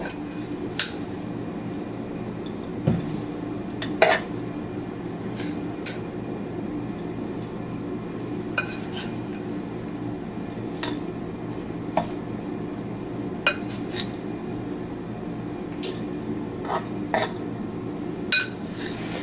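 Spoon and dishes clinking in a kitchen while muffins are topped with crumb mixture: scattered sharp metallic clinks and taps over about twenty seconds, moderately close, over a steady low room hum.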